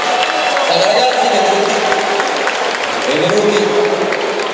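Audience applause for two Dragon Ball Z performers, Vegeta versus Goku, at a Romics convention stage, steady dense clapping filling the whole stretch with crowd murmur and a host's voice mixed in.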